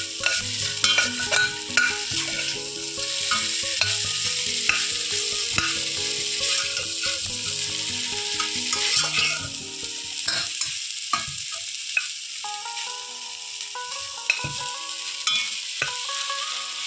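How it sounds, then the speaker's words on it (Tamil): Food sizzles steadily in a hot pan on low heat while a utensil stirs and scrapes against it in irregular knocks, close and with no talking. "சிம்மில் வச்சே நல்லா வதக்கணும்"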